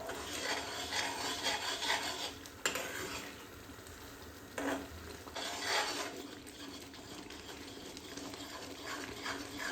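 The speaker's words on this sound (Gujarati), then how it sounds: "જો થોડું હલાવશું એટલે ઘટ થતો જશે અને સ્વાદ પણ એટલો સરસ થશે." A spoon steadily stirs sweet potato sheero with sugar and milk in a pan, making a continuous close scraping rub with a couple of brief louder strokes, and no one speaks.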